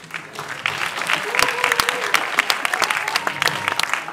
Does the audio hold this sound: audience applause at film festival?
yes